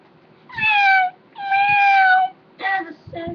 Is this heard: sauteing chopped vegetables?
no